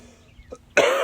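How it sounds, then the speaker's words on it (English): A single short, harsh cough from a scratchy throat bursts out after a moment of near silence, close and fairly loud, with a throat-clearing rasp. "Sorry about the cough. I got a little scratchy throat."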